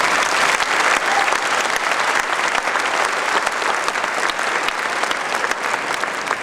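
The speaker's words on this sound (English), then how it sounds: "Please join me in a round of applause, Mr. Scott Kravitz." A commencement audience applauds the incoming speaker, loud, dense clapping from a large crowd that sustains strongly for over six seconds and tapers only slightly at the end.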